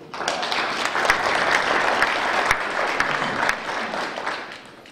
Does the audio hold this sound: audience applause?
yes